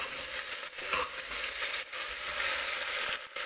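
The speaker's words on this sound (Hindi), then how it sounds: "इसको भी अच्छे से चला लेंगे।" Mixed vegetables with peas sizzle steadily in a pan for a winter vegetable pulao as a chopped tomato is stirred in, with scraping strokes and a few brief pauses in the frying hiss.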